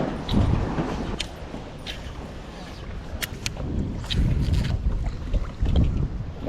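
Strong gusts buffet the microphone while fishing from a dock with a spinnerbait, a steady low rumbling roar that swells and dips throughout, with occasional faint clicks and a voice briefly in the background.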